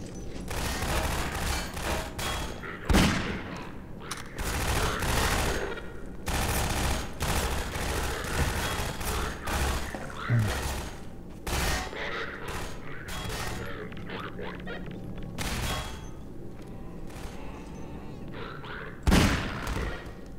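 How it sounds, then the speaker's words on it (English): Repeated gunfire in the video game Half-Life 2, with bursts of shots and booms spread through a busy, continuous game soundscape, some reports sharper and nearer than others. "Where are those shots coming from?"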